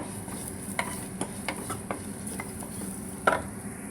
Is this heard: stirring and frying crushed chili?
yes